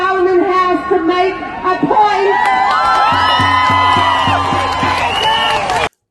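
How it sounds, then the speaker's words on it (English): A loud pro-Palestinian protest crowd cheers and whoops continuously, with shouting voices and a repeated horn-like tone partway through. "So you can hear the cheers there."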